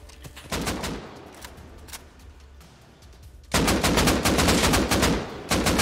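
Gunfire in the online survival game Rust Console Edition: scattered single shots at first, then a loud, dense burst of rapid automatic fire that runs almost without pause to the end.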